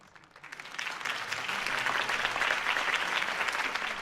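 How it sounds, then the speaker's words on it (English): Applause from a crowd in the video game Batman: The Telltale Series swells up after a quiet moment and continues as steady, dense clapping, moderately loud and sustained to the end. "could have heard that applause"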